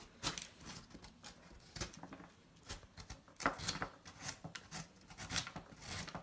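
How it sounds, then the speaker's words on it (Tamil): Elephant foot yam is sliced thinly for chips in a home kitchen, giving quick, faint scraping and slicing strokes that repeat in an uneven rhythm. "சேனக்கிழங்கு வந்து நல்லா இந்த மாதிரி நம்ம மெலிசாக எடுத்துக்கலாம்"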